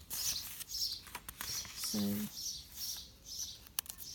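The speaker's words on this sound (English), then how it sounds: "So you can hear the birds. It's quite early in the morning here." Small birds chirp intermittently in the early morning background, faint and scattered, with a soft patter of other noise around them.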